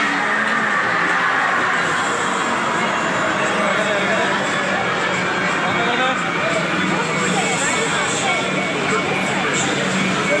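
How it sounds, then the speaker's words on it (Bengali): A Kolkata metro train pulling into a station, a continuous rumbling roar of the train with a faint high whine, while people talk over the noise. "এরপর ট্রেন আসবে, ট্রেন আসলেই উঠে পড়বো, সেই জন্য ওয়েট করছি।"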